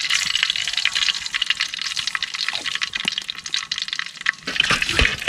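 Mustard seeds drop into hot oil for a fish head curry and set off a dense, crackling sizzle of rapid pops and spits. The sizzle stays close and continuous throughout, with a few louder bursts near the end.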